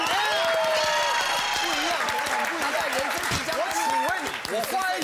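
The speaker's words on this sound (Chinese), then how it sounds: "掌声鼓励一下" A studio audience at a Taiwanese variety talk show breaks into sustained, dense applause lasting the full few seconds, while a host's voice speaks over the clapping.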